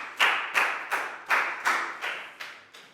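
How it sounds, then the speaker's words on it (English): A Year 4 classroom of students claps together for a classmate in a steady unison rhythm, about eight crisp, evenly spaced claps, fairly close and with no talking over them. "Big round of applause for Prel"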